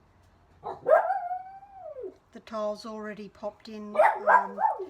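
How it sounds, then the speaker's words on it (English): A dog barks indoors near a mosaic tiling job, a drawn-out yelp followed by a run of quick barks, loud and close, with a person talking over it. "Excuse my dog barking."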